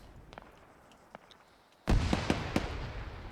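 Grenades burst in a multiplayer war video game, one loud blast followed by several sharp explosive pops in quick succession after a quieter stretch with faint distant reports.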